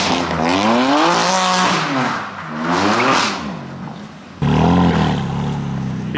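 A BMW M car drifts at a midnight cruise, its engine revving hard and rising and falling with loud squealing tires, then a sharp surge of engine roar near the end, all close and without talk.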